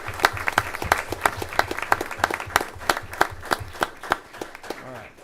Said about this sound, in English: So you want to give them a round of applause.